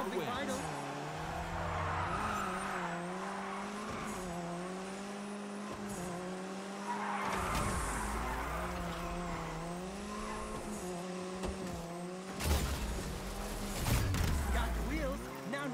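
Cars race and skid in the combat driving game Destruction AllStars, with steady engine drone and tire squeals under continuous game music. Louder screeching bursts and impacts arrive near the end.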